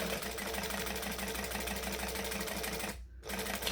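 A sewing machine back-stitching a pocket onto a bag, running with a fast, even mechanical whir and rhythmic needle thrum, then stopping briefly before starting again.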